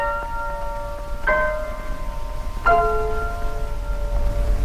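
Two slow piano chords imitate the bells of Big Ben, each struck once and left to decay, slightly scratchy and old-sounding from a 1951 recording.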